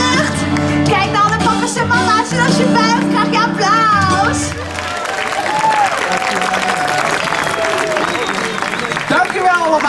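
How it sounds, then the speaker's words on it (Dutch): Audience applause breaks out at the fairy tree show in the Efteling theme park's fairy tale forest, a broad wash of clapping with children's voices and crowd noise, following singing and music in the first half. "En als je buigt, krijg je applaus."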